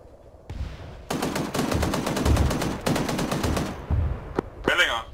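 Bursts of rapid machine gun fire in a video game, aimed at an enemy helicopter, loud and close with short pauses between volleys, and a brief voice near the end.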